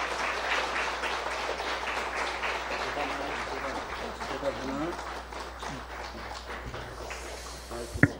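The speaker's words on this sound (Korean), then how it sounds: "나오실 때 한번 박수로 맞이해 주세요." A church congregation at an evening service claps steadily to welcome the preacher, a dense, moderately loud patter of many hands under a murmur of voices, with a sharp knock near the close.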